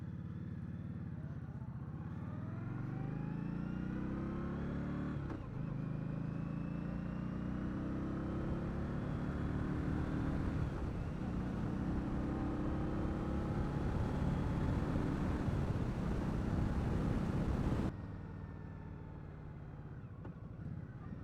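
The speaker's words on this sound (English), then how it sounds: "Hopefully you guys can hear a little bit of the exhaust on it. It's actually a nice sounding bike. It is just a stock exhaust." A 2020 Indian Scout Bobber 60 motorcycle with a stock exhaust, ridden on the road: a steady engine drone rising and falling through gear changes, with wind noise and no talking.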